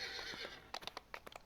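A horse whinnies and then its hooves clip-clop in quick, close steps as it is mounted in a video game, all fairly quiet and with no talking.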